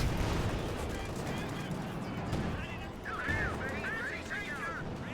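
Bren gun fire rattles during a Company of Heroes 2 battle across open fields, with repeated bursts of gunfire and distant battle noise under someone talking.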